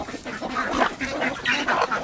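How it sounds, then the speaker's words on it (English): Delaware chickens clucking at feeding time on a farm, a fairly close flock giving repeated short, overlapping clucks and calls with no talk. "These are Delaware chickens."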